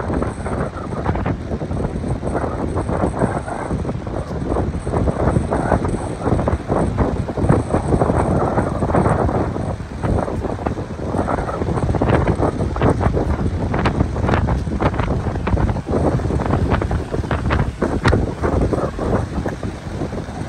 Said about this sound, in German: Etwas windig heute.